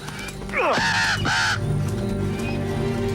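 Birds cawing in the 1987 film Predator, two loud harsh crow-like calls in quick succession, close and raspy, followed by a low steady background hum from the film soundtrack.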